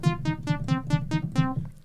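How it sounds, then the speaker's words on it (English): Short staccato percussive synth notes, about seven plucky bright hits in a quick uneven rhythm, each with a buzzy tone that decays fast, close and alone without talking. "So you get a synth sound like this."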